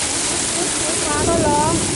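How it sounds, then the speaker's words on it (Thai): Rain and hail fall steadily in Denmark, a dense continuous patter that holds even and loud throughout, with faint tonal sounds rising briefly near the end. "ฝนก็ตกเห็บก็มา"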